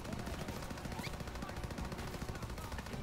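Rapid bursts of machine-gun and rifle fire crackle continuously in a World War II first-person shooter game, with voices calling out over the shooting.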